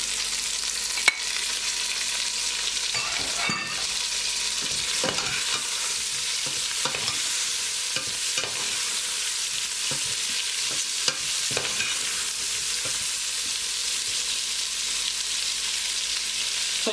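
Beef pieces with paprika dry frying in a pot, a steady close sizzle broken by repeated spoon scrapes and stirring knocks at irregular intervals, without speech.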